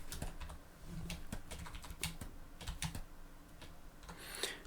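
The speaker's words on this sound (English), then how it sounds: "just hit delete on your keyboard" Rapid keystrokes on a computer keyboard while building a 3D rig, clicking in quick uneven bursts, close and fairly soft, with no talking.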